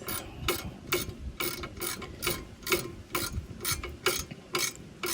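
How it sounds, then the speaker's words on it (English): A ratcheting wrench loosening a bolt on the brake of a 1990 Mazda Miata, giving a close, regular run of ratchet clicks in a steady back-and-forth rhythm with a faint mechanical rattle and no talk. "I'm going to do it with the ratcheting wrench and see how far I can get."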